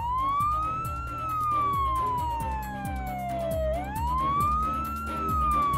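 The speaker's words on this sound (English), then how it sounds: "Trevor Evans can hear a siren in the distance" A cartoon fire engine siren from the animated show Fireman Sam wails in long rising and falling sweeps, somewhat distant, over a rhythmic mechanical clatter.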